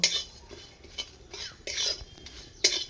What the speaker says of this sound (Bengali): এই মশলাটা আমি ভেজে নেব